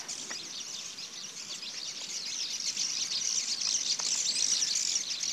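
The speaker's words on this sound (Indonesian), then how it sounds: "Saya dengar suara burung ya." Birds chirp and twitter in high, scattered calls over a steady outdoor hiss at Kolam Limbong pool in Tana Toraja, continuous and moderately distant.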